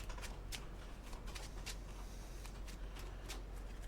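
Quiet, irregular bursts of crisp riffling as a card deck is shuffled nearby during a trading card game match, repeating several times over a low steady background hum.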